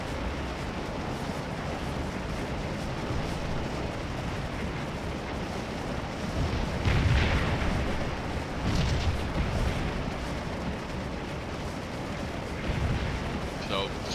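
Three-inch artillery guns firing in the Civil War strategy game Scourge of War: Antietam, a steady low rumble with a few louder booming bursts, distant and continuous, with talk over it.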